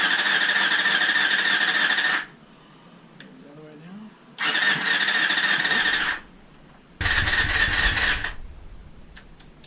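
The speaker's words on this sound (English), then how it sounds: "I suppose I'll put this down and hit the starter" The starter on a Honda CBR250RR MC22 motorcycle cranks in three separate bursts of about two seconds each, whirring with a high, harsh tone, and the engine never catches between the attempts.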